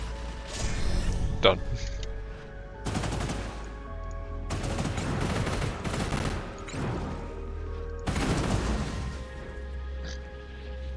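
A salvo of weapons fire in the sci-fi strategy game Industries of Titan, several heavy bursts of rapid gunfire in separate volleys over a low humming backdrop, with a brief spoken word.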